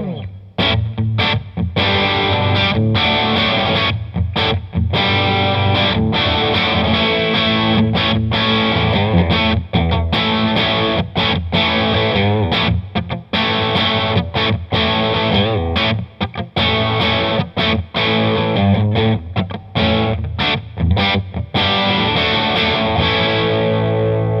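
Electric guitar played through a Korg Pandora Stomp multi-effects pedal with distortion and reverb, loud and continuous with strummed chords and quick muted breaks, no talking.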